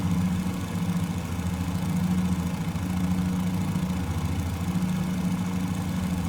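Fokker F VII radial engines throttled back to about 2000 RPM in cruise, heavily loaded aircraft: a steady, deep droning hum with a low pulsing beat, continuous and fairly loud, no voices.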